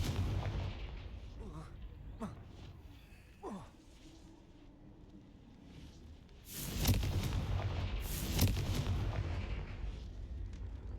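Confringo fire spells blasting in Hogwarts Legacy: a few muffled thumps early on, then a loud roaring burst of explosions in the second half that rumbles on and fades.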